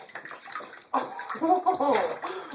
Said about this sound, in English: Watch where you're splashing